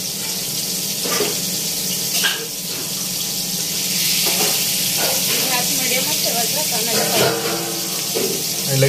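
Kupa fish frying in a pan, a continuous loud hiss of oil sizzling throughout, with occasional clinks and voices talking faintly underneath.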